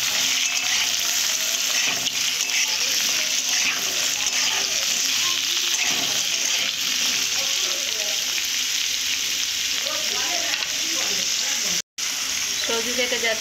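Beetroot pieces fry in hot oil in a pan, giving a loud, dense, continuous sizzle with crackling bursts and occasional stirring, steady throughout apart from one brief dropout near the end.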